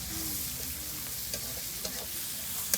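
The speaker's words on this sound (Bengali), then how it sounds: "এবার দিয়ে দিই, এটা দিয়ে দিলাম। আলু ভাজা।" Potatoes sizzle steadily frying in a hot pan, with a few soft scrapes of stirring near the end, close and constant.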